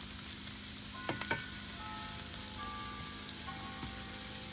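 Vegetables sauteing in a pan for scratch-made soup give a faint, steady sizzle with a few soft clinks and stirring taps, close and quiet.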